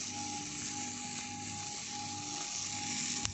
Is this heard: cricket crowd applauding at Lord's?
no